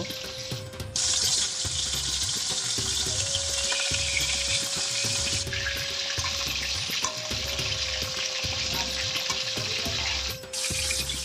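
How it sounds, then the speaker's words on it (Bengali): Snakehead fish heads fry in hot oil, a loud continuous sizzle with bursts of spattering and occasional scraping as pieces are turned. "এইভাবে আমি মাছের মাথাগুলোকে উল্টে পাল্টে ভালো করে ভেজে তুলে নেব"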